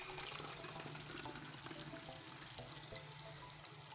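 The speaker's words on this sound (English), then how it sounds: "So I'm just going to get a funnel and just transfer the water inside." Homemade rice water with lemon rinds pours steadily through a funnel into a container, a continuous close gushing and splashing stream that holds steady for the full four seconds.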